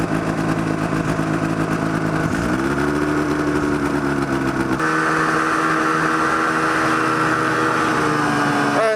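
A go-kart fitted with a snowmobile engine revs and accelerates hard, a loud, close buzzing drone that climbs in pitch in steps, then holds at a high steady whine.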